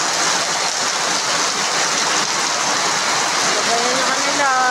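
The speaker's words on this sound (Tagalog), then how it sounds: "Malakas na po ang ulan dito sa Lemery, Batangas." Heavy typhoon rain in Lemery, Batangas, a dense, continuous hiss of downpour close by and steady in level, with a faint voice rising near the end.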